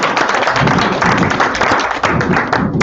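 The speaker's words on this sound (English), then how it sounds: "Dan and Tina, Please put your hands together." Audience at an event in Melbourne bursting into loud, dense applause, continuous clapping filling the whole moment with no break.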